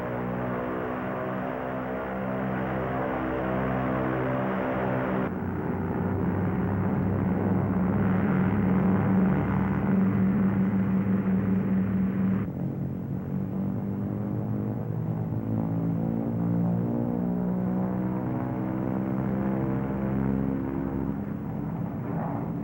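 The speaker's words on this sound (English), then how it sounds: "throttles advanced to get maximum allowable manifold pressure" Twin engines of a 1943 Lockheed P-38 Lightning running up with throttles advanced toward maximum manifold pressure, a loud, steady, droning propeller roar that shifts pitch in stages, no voices.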